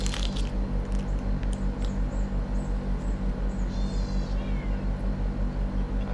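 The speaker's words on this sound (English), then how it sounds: "I can hear two cats." Small cats give a few short, thin meows close by in Bali over a loud rhythmic mechanical hum and background clatter, with no speech.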